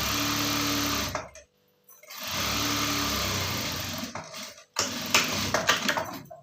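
A sewing machine runs a full-length stitch down a readymade top in steady whirring bursts, stopping briefly twice between runs, close and loud with no talking.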